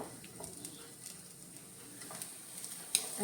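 Semolina-coated squid shallow-frying in a pan for a crispy Konkani rava fry, a faint steady sizzle with a few soft scrapes and taps as pieces are turned, quiet and close, with no talk.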